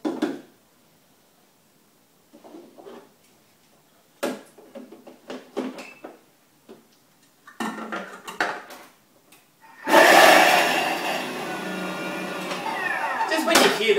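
A Thermomix blends olives, anchovies and capers for tapenade, starting up late as a loud, steady whirring roar after scattered kitchen knocks and clatter, with a person speaking.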